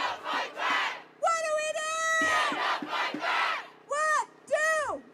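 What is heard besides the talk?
crowd of protesters outside the governor's mansion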